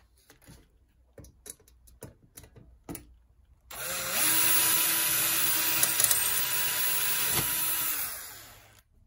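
Power drill boring a hole while fitting a Solex-style mudflap on a Brixton BX 125 motorcycle, a steady loud whine lasting about five seconds before spinning down, preceded by scattered clicks and handling taps.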